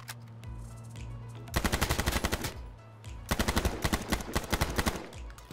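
Rapid automatic gunfire from a weapon in the video game H1Z1 on PS4, two loud sustained bursts of closely spaced shots separated by a short pause, heard alone without talk.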